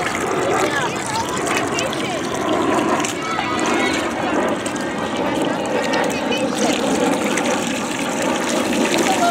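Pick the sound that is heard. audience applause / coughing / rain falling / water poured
water poured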